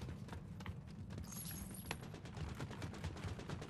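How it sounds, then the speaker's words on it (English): Gunfire outside in Fortnite: a faint, dense crackle of rapid distant shots running throughout, muffled as if heard from indoors, with a steady low game-ambience rumble underneath. "They're shooting outside."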